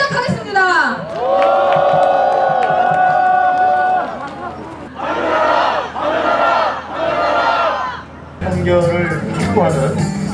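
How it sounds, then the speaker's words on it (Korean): Political rally crowd in Sejong demanding the immediate removal of Yoon Suk-yeol roars loudly: one long sustained collective shout, then several shorter rhythmic bursts of chanting, and a final surge of cheering, all close and loud. "즉각 파면 촉구 집회를 함성과 큰 박수로 시작하겠습니다"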